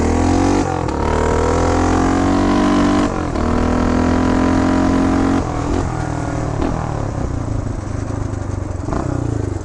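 A 1975 Honda Redline Powroll 412cc motorcycle engine runs loud and close, holding a steady throbbing idle with a couple of brief shifts in pitch as the throttle is blipped.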